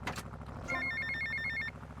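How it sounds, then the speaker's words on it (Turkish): A telephone rings in the video game GTA Vice City, a brief electronic warbling trill lasting about a second, heard over low looping game background sound. "Telefon."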